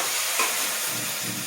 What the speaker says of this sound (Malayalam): നമ്മളിതാ മോര് ഒഴിച്ചു കൊടുക്കാം കേട്ടോ.